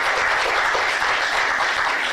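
An audience at a lecture applauds, a thick continuous wash of many hands clapping at close range, steady and loud throughout with no voices over it.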